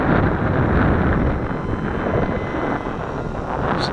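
Strong wind buffets the microphone outdoors while a light WLToys F959 Sky King three-channel RC airplane flies, a loud continuous low rumbling roar with gusty swells and no voices.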